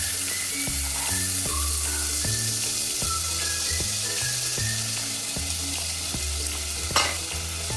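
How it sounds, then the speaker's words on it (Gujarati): Mung beans hitting hot oil in a pan after cumin, a steady close sizzle with rhythmic stirring and scraping throughout, plus one brief sharp clatter near the end; no one speaks. "તેલ ગરમ થઈ ગયું છે. હવે આપણે નાખીશું મગ."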